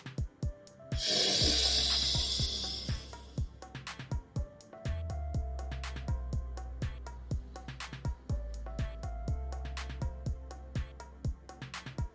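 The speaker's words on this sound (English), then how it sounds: "Make sure those exhales are very slow." A long, slow breathy exhale in a breathing exercise hisses out for a couple of seconds near the start, close to the microphone, over steady rhythmic background music with plucked beats.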